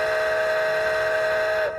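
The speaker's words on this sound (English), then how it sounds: "The whistle." Steam whistle from an Athearn model locomotive's sound system, a single steady chime-like tone held for nearly two seconds, close and clear before cutting off.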